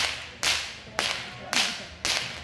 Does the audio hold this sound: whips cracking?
yes